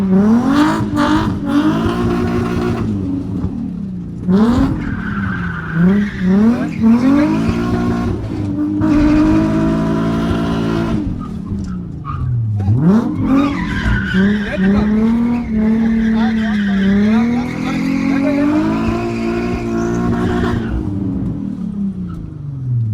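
Nissan 350Z drifting with loud, sustained tire squeal that rises and falls in pitch over the engine, continuous and close throughout.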